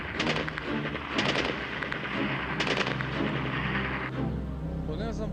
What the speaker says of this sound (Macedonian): а тоа веројатно во кале горе се пука